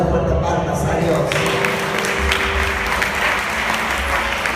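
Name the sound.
congregation applauding in church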